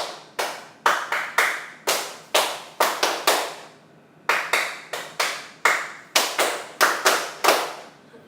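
Bursts of children's hand clapping in quick rhythmic groups, several claps each, loud and close with a short pause midway, during a Simon Says game in a classroom.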